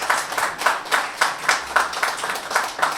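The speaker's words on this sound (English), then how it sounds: "Give them a round of applause." Scattered clapping from a small audience at a real estate professionals' mixer for the evening's panelists, a few hands beating in a loose rhythm, moderately close and fairly light.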